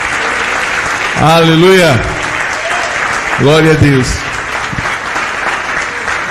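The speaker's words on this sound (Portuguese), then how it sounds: "Você pode dar mais uma salva de palmas ao Senhor Jesus?" A church congregation at a morning seminar service claps in a steady, full round of applause, while a voice calls out two short exclamations over it.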